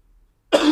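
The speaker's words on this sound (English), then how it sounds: "As you see, the coughs are incredibly violent." Harsh, violent coughing bursts in suddenly after a moment of silence, a short, loud, close fit cut off at the end.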